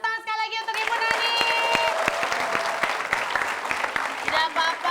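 A studio audience on an Indonesian comedy show breaks into applause after a brief musical sting, the clapping dense and sustained throughout, with a few voices mixed in.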